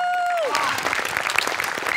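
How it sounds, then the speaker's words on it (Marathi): Studio audience applause on a Marathi comedy sketch show, a dense burst of clapping that rises after a music tone fades and continues steadily to the end. "म्युझिकसाठी जोरदार टाळ्या व्हायला पाहिजे."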